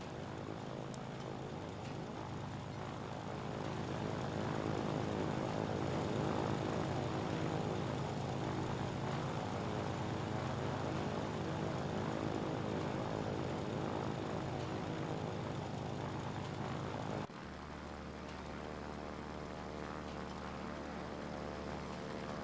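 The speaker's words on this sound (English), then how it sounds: "Looks like our other aircraft are back." Propeller aircraft engines droning steadily as planes return to base in the video game Ground of Aces, a continuous loud hum that briefly swells and then drops to a lower, steadier tone near the end.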